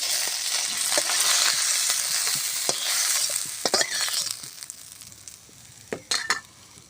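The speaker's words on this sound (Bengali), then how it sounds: "বেগুনগুলো ভেজে নেব।" Eggplant frying in hot oil, a bright continuous close sizzle that gradually softens, broken by scattered sharp pops and spatters, louder near the end.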